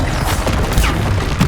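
Bombarda and Confringo spell explosions in Hogwarts Legacy make loud, dense booming blasts that run together with crackling bursts, close and continuous for a moment with no voice.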